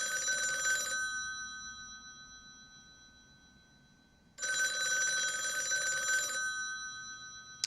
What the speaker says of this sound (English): You better get that phone.